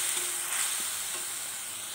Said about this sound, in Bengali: এখন আমি কাজু, কিশমিশ, পোস্ত, কাঁচা লঙ্কা বাটাটা দিয়ে দেব। ভালো করে নেড়ে চেড়ে মিক্স করে নিতে হবে।